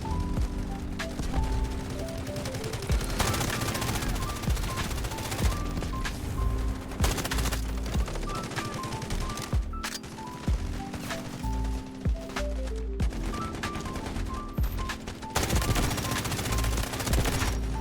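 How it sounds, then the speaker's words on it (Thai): Rapid automatic K416 rifle fire in the shooter Delta Force, sharp bursts crackling repeatedly over several seconds, loud and close, with short pauses between strings of shots amid game music. "กับเคสี่หนึ่งหกนะครับ ดูซิว่า เวลายิงจะโอเคไหมนะครับ"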